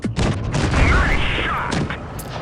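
Tank shells striking and glancing off the angled armor of a KV-1 in a tank battle game, loud booming impacts and clanking bursts crowding together, with a voice talking over them.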